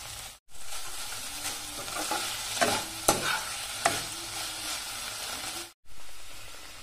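Chicken fries with green chillies and ginger-garlic paste, a loud close sizzle and hiss broken by sharp stirring scrapes, with two brief drops to near silence.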